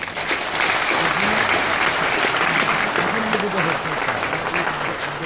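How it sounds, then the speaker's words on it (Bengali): An audience at a business conference in a Sheraton hotel breaks into steady, full applause, dense clapping with a voice faintly talking beneath it before it begins to thin out. "অলংকারদের জন্য একটা করতালি"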